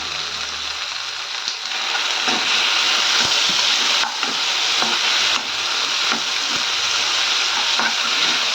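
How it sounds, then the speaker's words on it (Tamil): Onion and tomato sauté in a pan for a banana flower and capsicum thokku, giving a loud, close, continuous sizzle with small stirring scrapes throughout. "வெங்காயம் போட்டு நல்லா கொஞ்சம் வதக்கிக்கலாங்க. தக்காளி சேர்த்துக்கலாங்க."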